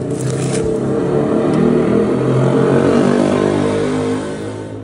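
A Honda Click v2 scooter with a Kenochi aftermarket exhaust idles loud and close with a deep, throbbing exhaust note that swells slightly before easing off near the end.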